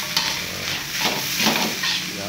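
Fried rice being stirred in a hot pan: repeated scraping strokes of a spatula sweep through a constant frying sizzle, close and fairly loud, in an uneven rhythm with no talking.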